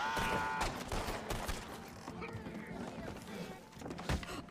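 Dense bursts of gunfire crackle through a Red Dead Redemption 2 roleplay scene, a rapid fusillade of overlapping shots and thuds mixed with game music and voices talking over the action.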